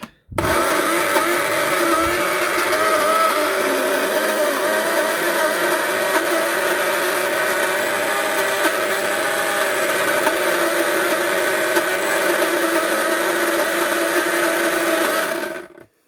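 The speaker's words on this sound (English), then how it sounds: "With this blender you can only do it for about 20 to 30 seconds" A blender grinding Thai red curry paste whirs steadily and loudly for about fifteen seconds, a constant motor drone that starts and stops abruptly, with no talking.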